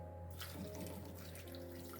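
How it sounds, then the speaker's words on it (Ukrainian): Water pours in a steady, quiet stream into a pot of chopped pumpkin being cooked for a jelly dessert, a soft continuous splash without speech. "Зараз долью трошечки налью водички сюди"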